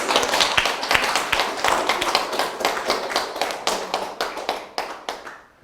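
A lecture audience claps together in a rhythmic burst of sharp, distinct hand claps that starts strong and slowly thins and fades over nearly six seconds.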